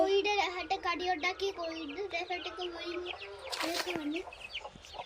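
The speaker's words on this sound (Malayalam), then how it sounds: "നമുക്ക് കോഴിക്കുഞ്ഞുങ്ങളെയാണ് കാണിക്കുന്നത്." Chicks in a small home flock of about fifteen give a steady run of high, close cheeping calls, with a brief louder flutter near the end.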